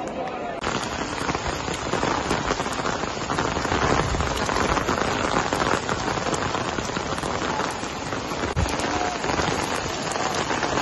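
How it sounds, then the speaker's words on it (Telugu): Steady, heavy rain falls at Tirumala, a dense, even patter of drops on hard surfaces that fills the whole stretch at a constant loudness and stands alone. "ఈరోజు వాతావరణం మారి తిరుమలలో వర్షం పడింది"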